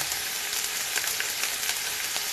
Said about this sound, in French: Ensuite par-dessus, je déverse les oignons